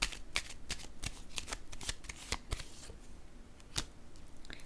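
Tarot cards shuffled by hand in a quiet room, a steady run of crisp riffling snaps and soft flutters, fairly close and alone without any talk.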